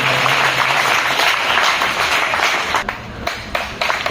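An audience claps at an alumni committee's award ceremony for meritorious students, a loud dense wash of hands that keeps going and thins briefly near the end.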